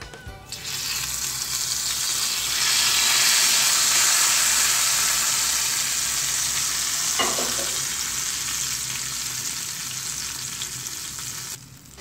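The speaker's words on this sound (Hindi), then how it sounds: "और अब मैं ऊपर से डाल दूंगी तड़का।" Hot tadka tempering sizzles loudly as it is poured over aloo pakora kadhi. A bright, steady hiss swells and holds for several seconds, with one short clink partway through, then cuts off abruptly.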